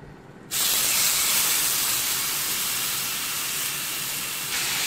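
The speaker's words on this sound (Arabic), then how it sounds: "هنا نشوي اللحم، سوف أتركها حتى تأخذ لون ذهبي من الجهة الأولى" Oiled ribs sear in a grill pan with a sudden loud hiss as the meat hits the hot surface, then a steady, dense sizzle that continues close and unbroken.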